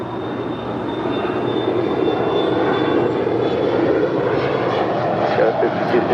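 A Spirit airliner takes off from runway 25 right at LAX, its engines roaring loud and steady and close throughout, with a radio voice faintly mixed in.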